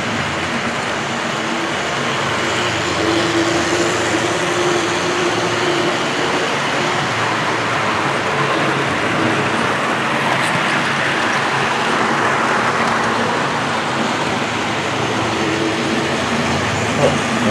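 Hornby Triang model train pulling four-wheel anglo-continental freight wagons around a layout, a steady continuous rolling rumble with faint wheel clatter, running alone without talk for the whole stretch.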